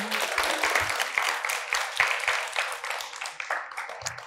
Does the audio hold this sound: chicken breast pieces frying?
no